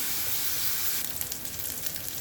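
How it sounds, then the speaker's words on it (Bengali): Onions frying in oil in a pan for Kajli fish curry, a loud close hissing sizzle that turns crackly with small pops partway through, no voices. "এর জন্য পেঁয়াজের সাথে তেল দিয়ে দিলাম।"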